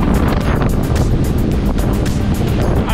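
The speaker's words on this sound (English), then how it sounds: "And the wind blowing down here is really strong. You might hear it." Strong wind buffeting a boat on Toronto harbour, a loud continuous roar with gusty bursts of microphone wind noise and water wash underneath, no voices.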